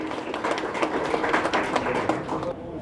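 A crowd applauding at a ceremony honouring social worker M G Shahnawaz in Aurangabad, a steady spread of clapping that stays fairly soft and distant, with no talk over it.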